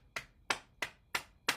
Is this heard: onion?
no